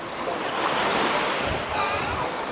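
Ocean surf at Om Beach in Gokarna rolls in as a steady, close wash of breaking waves, mixed with wind buffeting the microphone throughout.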